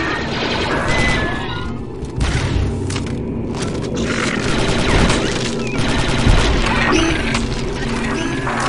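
Blaster fire and explosions rattle through a Star Wars Republic Commando firefight, with rapid bursts of shots, crashing impacts and booms stacking up continuously at close range.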